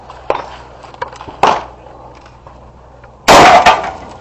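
A single loud, sharp report from a 120-grain PDX-1 Defender round fired into a 10% gel block covered in heavy cloth, with fainter scattered knocks before it.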